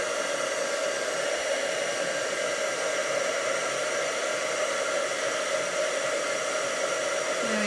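A heat tool melts embossing powder to a metallic shine on a stamped card, its steady loud blowing roar running unbroken throughout with no talk.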